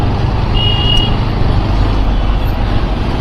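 Mumbai road traffic on a working-day commute, a steady loud rumble of trucks and engines close by, with a brief high reversing beep near the start and no talking.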